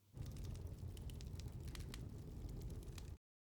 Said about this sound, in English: like a fire crackling in a lord's hall